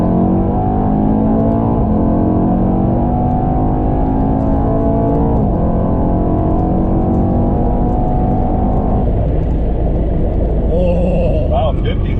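A 2018 Mercedes E63s runs against a BMW M2 CS, engine droning loud and close as it accelerates through gears with pitch climbing and dropping at each shift, then settling lower near the end.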